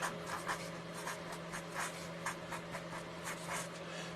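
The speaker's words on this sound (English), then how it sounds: "I'm just going to write it down there" Pen scratching across paper in short repeated strokes, soft and close, with a steady low hum behind it and no talking.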